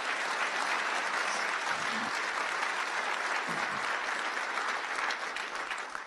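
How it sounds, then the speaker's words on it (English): An inauguration crowd gives senior councilwoman Dorothy Gooseby a round of applause, with dense, steady clapping that carries loudly throughout and tapers slightly at the end. "how about a round of applause for our great senior councilwoman"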